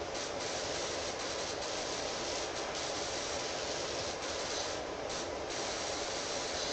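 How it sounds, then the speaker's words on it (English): Pressure washer spraying in PowerWash Simulator, a continuous loud broadband hiss of water jetting steadily with brief dips and surges in the spray, no voices over it. "I like the noises that the spraying makes too"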